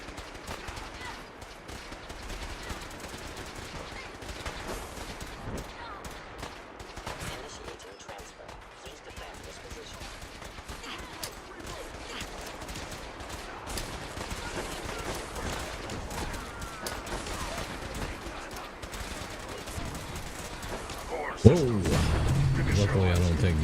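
Gunfire in the Fallout 4 video game, a steady spread of shots and battle noise running throughout at moderate level, ending in a louder burst near the close.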